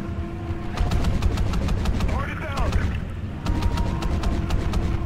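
Underwater gunfire in the video game Call of Duty: Ghosts, rapid repeated shots in bursts over a low rumble, with a brief pause in the middle before the firing resumes.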